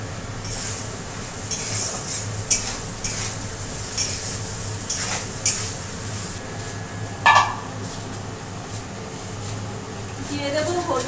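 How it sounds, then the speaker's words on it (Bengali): Gobindobhog rice frying in a pan with bay leaves, giving a steady low sizzle broken by repeated scraping stirs and occasional utensil clinks, with someone talking throughout. "চালটা একটু ভেজে নেব ভালো করে।"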